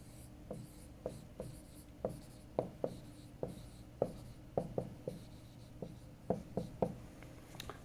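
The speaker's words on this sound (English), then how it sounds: "So I'm going to write down Ampere's law here." Chalk tapping and scratching on a board as an equation for Ampere's law is written during a physics lecture, a steady series of sharp, close strokes with no voices.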